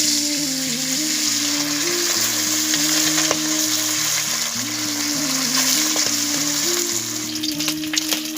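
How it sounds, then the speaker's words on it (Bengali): Pabda fish frying in hot oil in a home kitchen, a steady crackling sizzle that runs unbroken throughout, with a looping musical tune playing over it and no talking. "তেল গরম হয়ে গেছে, এরপর আমি দিয়ে দিচ্ছি মাছগুলো।"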